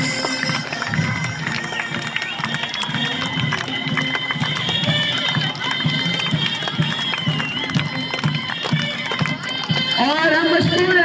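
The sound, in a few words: applause and cheering from cadet students at a retirement ceremony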